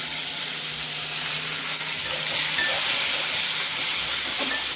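Onions and tomatoes fry in a pan with a loud, steady hiss and sizzle that holds for a few seconds, close by and unbroken, with no talk.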